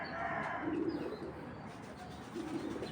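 A male black check racing pigeon coos softly, with two brief low rolling calls set apart, alongside faint chirps and light background noise.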